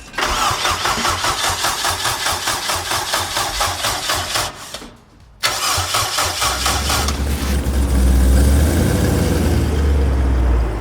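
Twin turbo Lamborghini Gallardo engine: a rapid rhythmic starter cranking, a brief pause, more cranking, then the engine catches and settles into a loud, deep, rumbling idle, close up with no talk.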